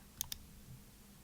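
Two crisp, quiet mouse clicks in quick succession, a fraction of a second apart, made while selecting transactions in Xero accounting software, with faint room hiss and no talking.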